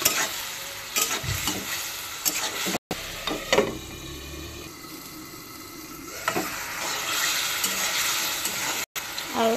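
Cleaned taki (snakehead) fish fries in a pan with water, turmeric, salt, panch phoron, cumin and coriander, giving a steady close sizzle with repeated clattering stirs and scrapes and brief gaps, no talking.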